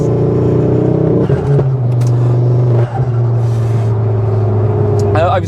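A Mk2 Ford Focus RS engine roars and pulls hard, its deep drone climbing steadily in pitch, loud and close, with a brief dip partway through.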